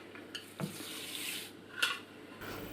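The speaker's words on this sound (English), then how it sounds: "Then add the curry powder and the chilies and the stock and the lentils." Curry powder, chilies, stock and lentils go into a pot for mulligatawny soup, with soft clinks, a splash of poured liquid and light stirring against a quiet kitchen background.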